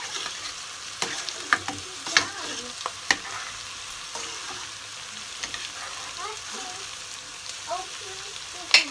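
Chicken frying in a pot for curried chicken sizzles steadily, with scattered clinks and scrapes as it is stirred, heard up close at a moderate level with no one talking.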